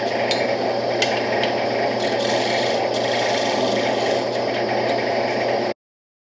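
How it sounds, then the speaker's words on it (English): A chisel scraping and paring a wooden pattern flat for a motorcycle part, giving a steady close rasping scrape that runs unbroken for about six seconds before cutting off. "I'm just going to take my chisel and I'm going to make this flat"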